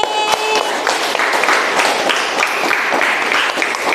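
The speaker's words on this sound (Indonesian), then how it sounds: "Ya, tepuk tangan hari ini." Students in a classroom clap together during an Islamic religious education lesson, with steady, fairly loud applause lasting the whole stretch and no talk over it.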